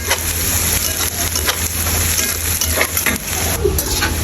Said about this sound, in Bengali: আর এখানে তো পেঁয়াজটা ভাজা হচ্ছে।